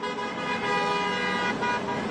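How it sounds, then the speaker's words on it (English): Car horns honk in support of a rally outside an In-N-Out Burger in San Ramon, several overlapping sustained toots blaring steadily over street traffic. "Honks in support of those rallying outside In-N-Out Burger"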